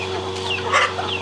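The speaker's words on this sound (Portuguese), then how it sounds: "Olha lá pra você ver, sai galinha de pé pelado. Olha, olha os pintinhos." Bare-footed hens and chicks on a cattle farm, clucking and chirping in a few soft, broken calls at close range against a steady background hum.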